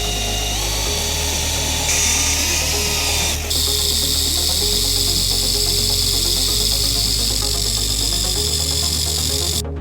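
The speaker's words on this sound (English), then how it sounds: "get the Milwaukee polisher" A Milwaukee polisher whirs steadily at high RPM during paintless dent repair on a BMW Z4, a loud, close, continuous motor whine that shifts pitch slightly a few times as the speed changes, with no speech.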